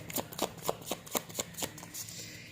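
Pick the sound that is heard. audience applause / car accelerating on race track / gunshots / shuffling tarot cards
shuffling tarot cards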